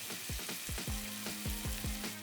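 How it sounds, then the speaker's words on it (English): Chili, vinegar and soy sauces sizzle in a hot pan, a quiet steady frying hiss broken by a regular series of soft knocks, like a spoon stirring against the pan. "You can see the sizzle."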